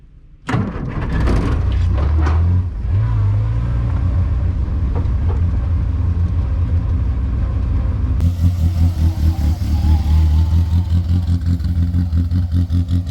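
A 1967 Morris Minor engine runs close by with a loud clattering idle, then revs up in several rising bursts before settling into a steady throbbing run with rhythmic pulses; no talking.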